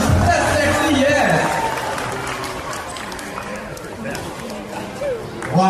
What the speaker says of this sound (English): How about a round of applause for Sandra?